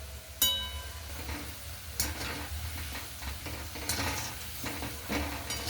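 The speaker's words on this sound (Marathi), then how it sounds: "लो टू मीडियम आचवर तळून घ्यायचे म्हणजे मस्त क्रिस्पी तळल्या जातात तर या पद्धतीने मी आता राहिलेले रोल तळून घेते" Crispy fresh-pea rolls frying in oil over low to medium heat, a steady close sizzle and bubbling throughout, with occasional clinks and stirring noises, no talk.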